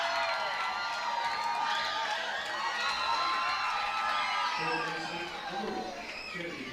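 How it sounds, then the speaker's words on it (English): Crowd at a college softball game between Texas A&M and Ole Miss cheering and whooping in a sustained swell of voices, fading slightly at the end under a commentator's talk. "Crowd starting to come back to life."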